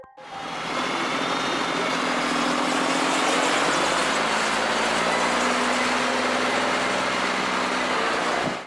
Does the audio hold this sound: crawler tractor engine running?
yes